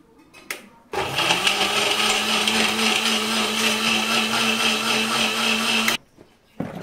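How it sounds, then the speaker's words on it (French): An electric blender whirs loudly and steadily for about five seconds as it purées chopped garlic cloves, starting abruptly and cutting off sharply, with small clicks before and after. "nous allons passer le tout, n'est-ce pas, dans un mixeur"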